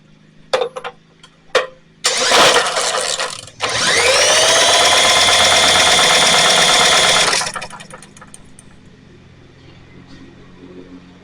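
A few short mechanical clunks and a brief sputter, then the small engine of a John Deere JS63 self-propelled push mower catches and runs steadily for a few seconds before cutting out.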